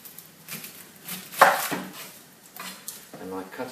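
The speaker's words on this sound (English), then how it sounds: "So holding the onion I cut off the top and the bottom." A knife slices through an onion on a cutting board, trimming off its top and bottom: a few short, crisp cuts close by, with one sharper chop standing out, and no talking.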